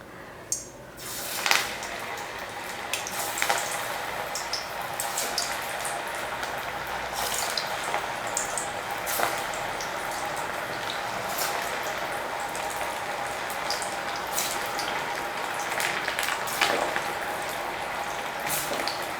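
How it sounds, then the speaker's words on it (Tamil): Moong dal vadas fry in hot oil, giving a steady bubbling crackle with a few sharper spits and pops throughout, fairly close and with no talking. "எண்ணெய் நல்லா காஞ்சிருச்சு. இதில் ஒவ்வொரு வடையாக போட்டுக்கலாம்."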